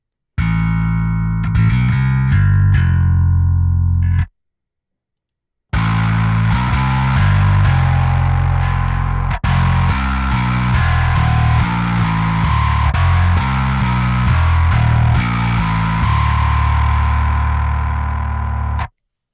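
Electric bass riffs through heavy distortion and effects, a short phrase, a brief gap, then a longer stretch of loud, driving, effected bass playing.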